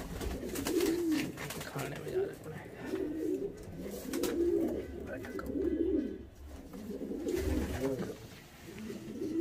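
Pet breeder pigeons coo repeatedly on a rooftop, a steady series of soft throaty rolling calls close by, with someone talking over them and faint background noise.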